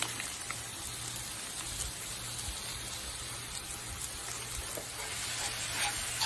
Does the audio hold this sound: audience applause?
no